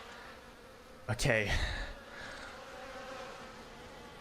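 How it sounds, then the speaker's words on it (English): Bees buzzing in Final Fantasy XIV, a faint insect drone in the background beneath a brief spoken word and a sharp burst of voice. "Why is it bees in the background?"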